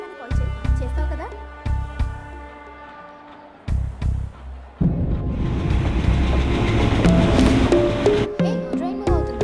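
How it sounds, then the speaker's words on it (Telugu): A passenger train starts pulling out, a continuous low rumble and rattle of rolling carriages rising under people talking and background music in a film scene. "ట్రైన్ మూవ్ అవుతుంది"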